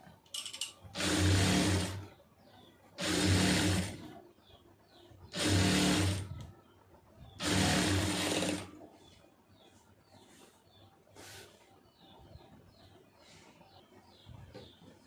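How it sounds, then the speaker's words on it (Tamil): Four runs of a sewing machine stitching a blouse, each a fast whirring burst of about a second and a half, separated by short pauses with faint handling sounds, close up with no speech. "இதில் வந்து ஓட்டு தையல் போட்டுருங்க."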